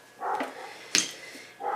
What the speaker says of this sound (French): C'est le chien de mes voisins qui n'arrête pas d'aboyer